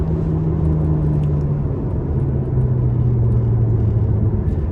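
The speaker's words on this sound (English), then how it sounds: "it's just nuts how this F1 transmission shifts" A 2003 Ferrari 360 Spyder with its 3.6-liter V8 and F1 transmission drives along, heard as a loud, steady low engine drone and rumble from inside the car, pitch dipping slightly as it shifts, no voices.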